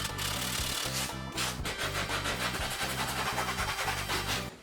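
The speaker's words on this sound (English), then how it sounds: "Next step, sandpaper." Sandpaper rubs over a hammered aluminium foil ball, a close, rhythmic scratchy back-and-forth rasping in quick repeated strokes, no talking.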